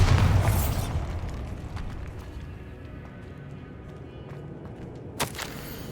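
A Bombarda spell blows up near an altar in Hogwarts Legacy, opening with a heavy booming blast that rumbles off into quiet debris and ends in a short, sharp pop.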